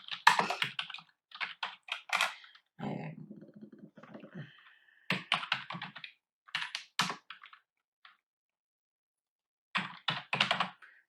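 Bursts of rapid key clicks from a computer keyboard as student names are typed in, separated by short pauses and a stretch of softer, low clatter, fairly close and alone.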